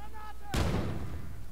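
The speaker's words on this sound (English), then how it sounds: "As soon as you see him, huck the grenade." A grenade explodes in Wolfenstein 2: The New Colossus, a single sudden loud blast that rumbles and decays over the next second, following a brief tonal game sound.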